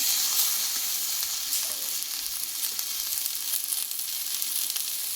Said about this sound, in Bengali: এই মশলার সঙ্গে আরও কিছুক্ষণ আমি কুমড়ো ডাটা আলুটা কষিয়ে নেবো